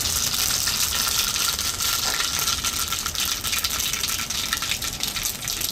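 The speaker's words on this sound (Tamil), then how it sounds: "வெங்காயம், கருவேப்பிலை இதெல்லாம் நல்லா வதங்கிடும்." Mustard seeds, fennel, onion and curry leaves sautéing in hot oil for a beetroot dish: a steady, close, dense sizzle with light rattling and stirring scrapes throughout, no talking.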